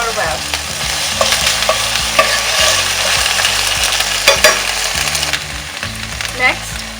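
Onions, serrano peppers and ginger garlic paste sizzle steadily in a hot pan with repeated stirring scrapes and clinks, a loud, close, continuous frying sound with no voices.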